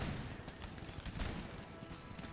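Musket gunfire crackles in the strategy video game Empire Total War as a dense, rolling battle din of overlapping shots and bangs, fairly faint and continuous.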